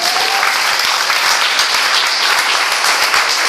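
A church congregation claps steadily and loudly for several seconds, a dense wash of many hands with no voices rising above it.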